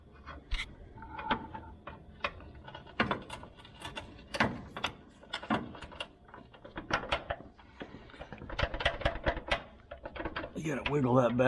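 Socket ratchet with a 9/16 socket on a double swivel extension turns a bolt on a 1977 Pontiac Firebird Trans Am's LS engine mount, giving quiet, uneven runs of clicking pawl ratchets with faint background noise.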